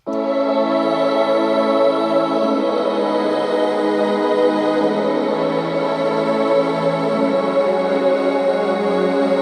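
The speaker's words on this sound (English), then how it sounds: "The next part are the vocal pads." Sustained vocal pads play the same chords as the strings of an emotional electronic intro, a dense, steady wash of held tones lasting the whole stretch, loud and alone.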